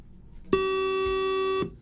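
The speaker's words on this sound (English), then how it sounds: "Yes, buzzer 1 is working." A quiz contest buzzer is pressed at a primary school quiz and gives one sustained electronic tone of about a second, steady and fairly loud against a quiet room.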